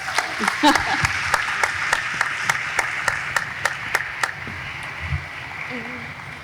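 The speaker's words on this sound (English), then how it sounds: "Let's give them all a big round of applause." An audience round of applause at a Space Camp Hall of Fame induction ceremony: steady crowd clapping with distinct sharp claps standing out, and brief voices early on before the clapping thins.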